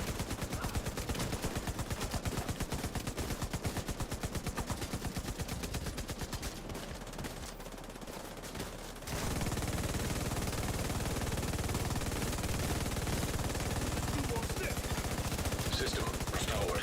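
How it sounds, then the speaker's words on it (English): A video game weapon fires nonstop in rapid automatic bursts, a dense, steady rattle of gunfire that runs nearly the whole time, briefly thinning before resuming at full intensity, with a voice talking over it. "I just want to be constantly firing, even if I'm wasting rounds, that's fine"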